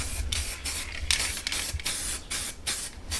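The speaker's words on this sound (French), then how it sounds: "Donc là, je bombe les deux autres pièces aussi." A zinc anti-rust aerosol is sprayed onto car body parts from a 1300GT Ford Escort, coming as a rapid series of short, close hissing bursts with brief gaps between them.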